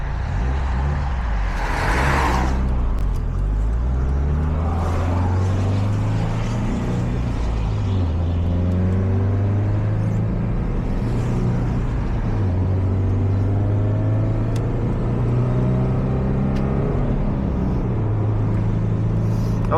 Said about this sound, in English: that DOS Performance turbo sounds freaking wild, comes in a boost quick, and makes some solid power